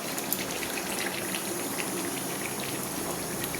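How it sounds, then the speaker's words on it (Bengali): Hot water poured into a pot of browning mutton curry gives a steady, even gush with a soft sizzle underneath, quiet and continuous throughout. "আর একটু গরম জল অ্যাড করছি এই সময়।"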